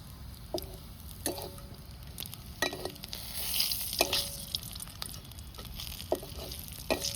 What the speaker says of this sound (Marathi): आधी बोंबील तळून घ्यायचा आहे चांगला आपलं बोंबील चांगलं तळायचं चालले